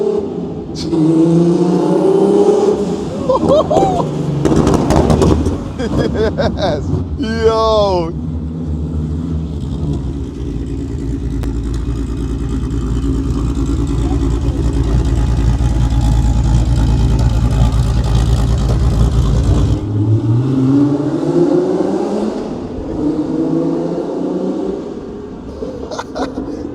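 A loud turbocharged R36 hatchback engine revs hard and holds a sustained roaring drone before dropping back, with brief voices near the start.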